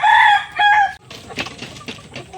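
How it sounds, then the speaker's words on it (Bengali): A hill chicken rooster's crow rings out close by, then softer clucking and scattered calls from crested hill chickens follow. "এই যে দেখতে পাচ্ছেন আপনারা পাহাড়ি মুরগিগুলো এনে আমি এদেরকে ছেড়ে দিয়েছি"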